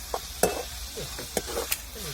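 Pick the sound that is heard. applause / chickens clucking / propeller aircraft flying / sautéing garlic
sautéing garlic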